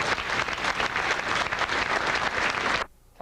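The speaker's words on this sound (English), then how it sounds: "Let's give an additional round of applause to all our award recipients tonight." An audience at an awards ceremony applauding the award recipients, a loud, dense wash of clapping hands that continues steadily and then cuts off abruptly near the end.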